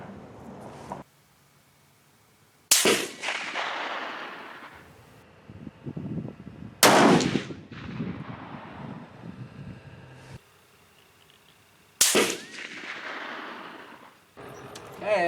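Three loud rifle shots from a precision target rifle, Gruning Precision or Steyr 300M CISM, ring out spaced several seconds apart outdoors, each a sharp crack with a long rolling echo that fades before the next.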